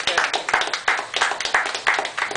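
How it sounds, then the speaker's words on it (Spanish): Crowd applause at a press credentials ceremony, a lively run of rhythmic, fairly close claps that rises in bursts and keeps a steady pulse throughout. "Yo pido un aplauso para toda la gente de las redes sociales en el mundo"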